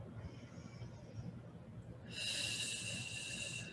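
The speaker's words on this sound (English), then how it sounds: "listen to the sound of the breath" Slow breathing during a yoga session: a soft, close inhale, then a stronger, breathy exhale after a short pause, quiet and alone.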